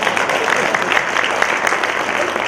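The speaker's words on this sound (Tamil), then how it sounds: "நல்ல ஒரு கைத்தட்டல் கொடுங்க" An audience at a memorial event applauds, a dense, continuous burst of clapping that stays loud and even throughout, with little else audible.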